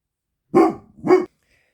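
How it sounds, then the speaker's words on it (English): A dog barks twice at the mailman, two loud, close, deep woofs with a short gap between them and silence around them. "My dog always goes berserk at the mailman."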